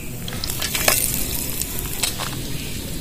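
Radish pakoras fry in hot oil in a kadai, a steady close sizzle with bursts of crackling and scraping stirs, with no speech over it.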